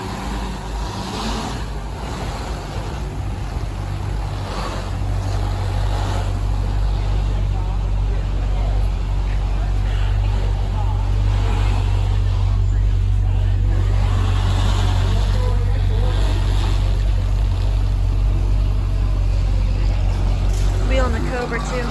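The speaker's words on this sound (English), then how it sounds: "Got a beautiful Camaro about to head out." A classic Chevrolet Camaro pulls out at a cars-and-coffee meet at the St. Augustine classic car museum. Its engine gives a loud, deep, steady rumble close by that holds for about twenty seconds.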